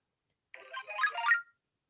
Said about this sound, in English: So I have this on my phone as an alarm for some days.